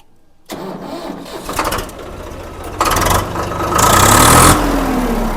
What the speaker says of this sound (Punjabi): ਇਹਨੂੰ ਐ ਕਰੂ ਸਟਾਰਟ ਕਰਕੇ ਦਿਖਾਓ ਥੋੜਾ ਟਰੈਕਟਰ ਨੂੰ